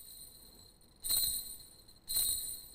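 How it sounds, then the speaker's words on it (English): Two bright metallic rings from a handmade, hammered Kagura bell, about a second apart, each a sharp strike with a shimmering high ring that quickly fades over a steady background hum. "This is the sound of a handmade bell."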